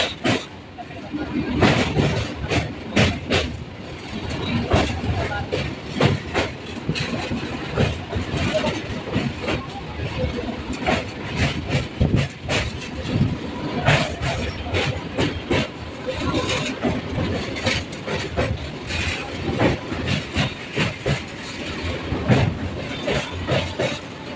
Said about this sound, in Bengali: ওই পাশের ব্রিজ দিয়েও দেখুন একটা ট্রেন বেরিয়ে যাচ্ছে।